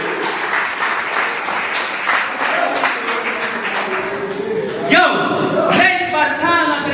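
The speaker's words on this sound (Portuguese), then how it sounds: "Aplausos, família, aplausos, família, aplausos, família." Audience applause and cheering at a Portuguese-language rap battle semifinal, a dense sustained clapping crowd with voices shouting over it throughout.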